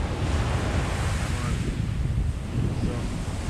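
Ocean surf at an offshore dive site rolls and washes steadily, close and continuous, mixed with heavy wind buffeting the microphone and no talking.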